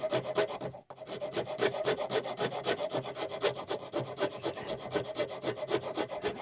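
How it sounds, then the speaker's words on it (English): A coarse round file rasps against the wooden handle of an Asian pull saw, giving quick, rhythmic back-and-forth scraping strokes up close, broken by one brief pause near the start. "this is what I like these round files for. I've got a coarse one."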